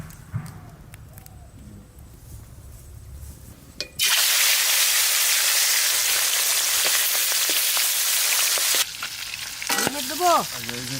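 Mustard oil poured into a hot wok bursts into a loud, steady sizzle that holds for several seconds before dropping off. Quieter kitchen sounds come before it, and a short voice is heard near the end.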